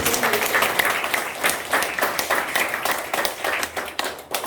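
A church congregation bursts into applause during a sermon, dense clapping rolling on steadily for several seconds and fading toward the end.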